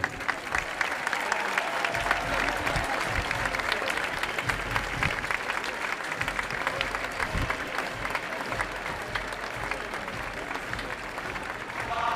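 Sustained audience applause fills the opening ceremony of the 2024 Feria de Dax, a dense, steady clapping from a large crowd lasting throughout without speech.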